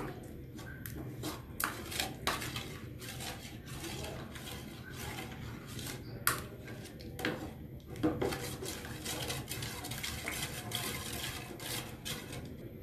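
A spoon scrapes and clinks against a pot while apple kheer is stirred, soft repeated metallic scraping and tapping in an irregular rhythm, faint and close, with no voices.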